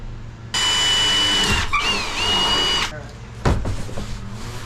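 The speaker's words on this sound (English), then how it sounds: "I'll drill those out" A power drill whines loudly for about two seconds, stops briefly, then whirs again, followed by a clunk and quieter handling noises, while drilling holes to fit Bronco fenders.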